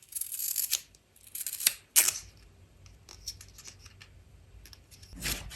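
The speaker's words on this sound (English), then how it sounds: "I'm going to cut them into 3 thin strips" Scissors cut paper into thin strips for a handmade card, with several crisp snipping bursts up close, separated by quiet pauses and light paper rustling.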